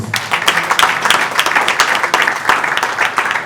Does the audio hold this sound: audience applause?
yes